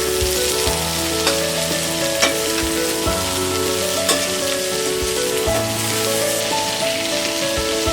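Ivy gourd (tindora) frying with rock salt in a pan over low flame gives a steady, loud, dense sizzle and crackle that runs unbroken throughout, with scattered sharper pops and no voices.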